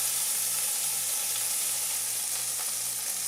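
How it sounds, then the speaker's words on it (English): A chuck roast browning in a hot pan sizzles in a loud, unbroken hiss that stays even and close throughout, with no voices. "I'm going to brown the side of my chuck roast"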